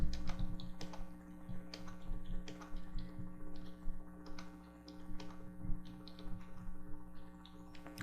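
Clicky keystrokes on a computer keyboard entering ten numbers, irregular bursts of taps over a steady electrical hum, close and moderately loud, with no voices.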